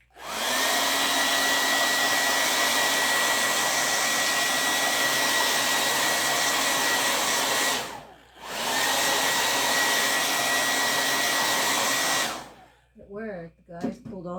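Hair dryer blowing steadily at close range on a patriotic lazy Susan craft piece, loud and continuous, cutting out briefly near the middle before resuming, then stopping as a voice begins speaking at the end.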